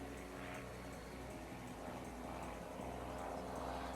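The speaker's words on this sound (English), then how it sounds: "And an airplane's coming," A steady, droning aircraft engine hum holds at an even level throughout, with a low buzzing propeller tone and no voices.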